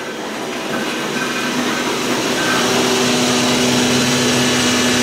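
A steady, droning mechanical hum with a constant low tone, like a machine motor running continuously nearby, no voices. It is the hydraulic motor of a Dover Impulse hotel elevator.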